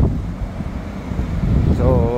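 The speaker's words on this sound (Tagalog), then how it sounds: "Medyo maaraw na mahangin." Strong wind buffets the microphone outdoors on a sunny, breezy day, a steady low rumble that stays loud throughout, with a voice faintly present underneath.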